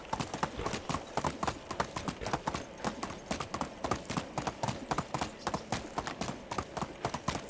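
Steady clip-clop of horse hooves trotting at an even, quick rhythm in the game Medieval Dynasty, close and clear throughout.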